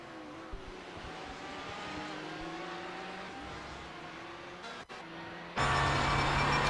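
Onboard engine of an LMP1 prototype race car lapping Circuit de Barcelona-Catalunya in a racing video game, a steady high-pitched whine with gear-shift pitch steps, briefly cutting out before returning louder and harsher near the end.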